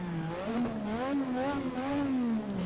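A 1.5-litre turbocharged V6 in a 1960s Lotus 49 Formula One car revs at a distance, its engine note wavering up and down in a steady warbling whine, moderately faint with no voices.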